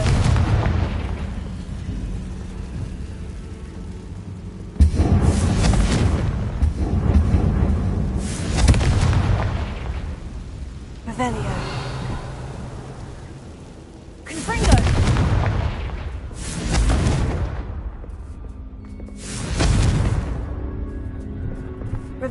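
Repeated booming explosions from the Confringo spell in Hogwarts Legacy, about five heavy blasts spaced a few seconds apart over a rumbling game soundscape, with voices talking between them.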